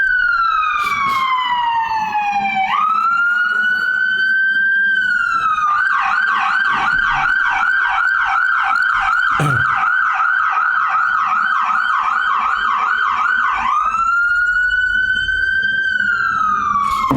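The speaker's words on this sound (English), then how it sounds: "There's an ambulance right outside of my window." An ambulance siren wails close by outside a window, sweeping tones shifting into a rapid yelp pattern and back to a slow wail, loud and sustained.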